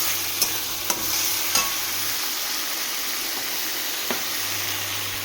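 Onion paste and some fried onion sizzle in a hot pan with a steady, close hiss, broken by a few sharp clicks from a utensil stirring and tapping against the pan.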